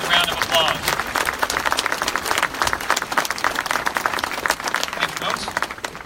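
Audience applause at a high school gymnasium groundbreaking ceremony, a steady wash of many hands clapping for six seconds that holds loud and even, then tapers slightly at the end.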